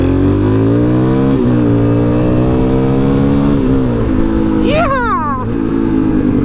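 A supermoto motorcycle engine revs at idle, a loud close droning hum that rises and dips gently, with a short high whine near the end.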